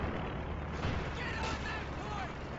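Battle gunfire in the Company of Heroes video game, a steady dense crackle and rumble of distant shooting and explosions, with voices speaking over it.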